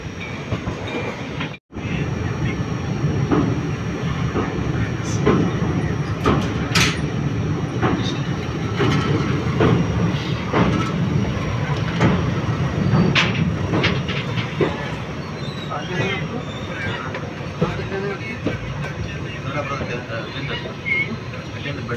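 A passenger train heard from on board as it runs past Unakal railway station: a loud, continuous rattle and clatter of wheels on rails with scattered clicks and squeals, and faint indistinct voices beneath.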